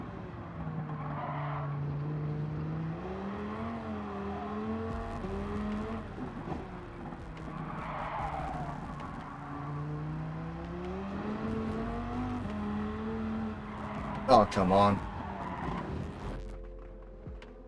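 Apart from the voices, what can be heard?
street car racing on Nordschleife in a racing video game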